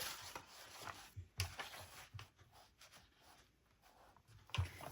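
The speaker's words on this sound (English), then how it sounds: "I just use my paper trimmer and I cut it to the size that I want" A paper trimmer slices paper for a small 6x6 craft album, giving faint, close scratchy sliding sounds with a few soft clicks from the blade in a quiet room.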